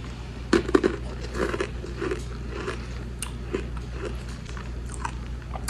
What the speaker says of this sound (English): So instead of chewy, they're crunchy.